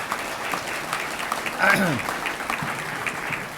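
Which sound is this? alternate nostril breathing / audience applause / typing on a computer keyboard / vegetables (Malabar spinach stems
audience applause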